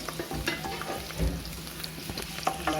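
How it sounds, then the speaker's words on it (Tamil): Garlic, curry leaves and small shallots sauté in a pan with cumin and fenugreek for a fish curry, giving a steady sizzle with scraping stir strokes throughout, close and alone. "எல்லாம் போட்டு சின்ன வெங்காயம் போட்டு நல்லா வதக்கிக்கலாம்."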